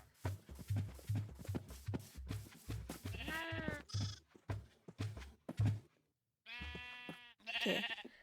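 Irregular thumps and shuffling footsteps are followed by several loud, nasal goat bleats in Minecraft Bedrock Edition, a few coming in quick succession, with brief quiet between.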